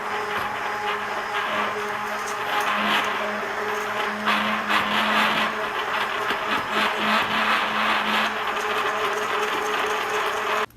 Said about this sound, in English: we're gonna blend this one more time with my immersion blender